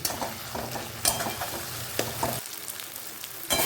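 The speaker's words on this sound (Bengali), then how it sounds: "এবার এটা দিয়ে ভালো করে একটু কষতে হবে যাতে এই আদা রসুনের কাঁচা গন্ধটা চলে যায়" Ginger, garlic and green chili sautéing in hot oil in a pan, a continuous close sizzle broken by several scraping stirs of a spatula.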